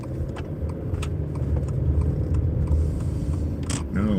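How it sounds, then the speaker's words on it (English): A car drives through morning traffic near a school zone, a steady low engine rumble and road noise heard from inside, with a few faint ticks and a brief squeak near the end. "All this morning traffic."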